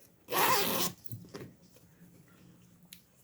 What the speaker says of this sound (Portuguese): Então, ó, zíper totalmente funcional.